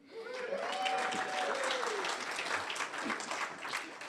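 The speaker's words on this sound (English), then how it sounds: "We'll give you a nice round of applause." A nice round of applause at a Kiwanis club meeting as guests are introduced by name, steady dense clapping from a roomful of people lasting throughout, with a faint voice briefly audible early on.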